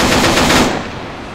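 Rapid automatic gunfire in ARMA 3, a loud close burst of dense shots lasting under a second before trailing off into echoing ambience.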